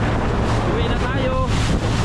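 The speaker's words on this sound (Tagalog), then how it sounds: "Sobrang lakas ang hangin, no? Malakas ang hangin talaga." Strong wind roars across a small fishing boat at sea, a loud, unbroken buffeting on the microphone with the wash of waves underneath.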